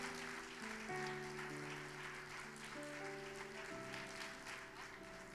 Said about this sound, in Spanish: Le da palmas fuerte al Señor.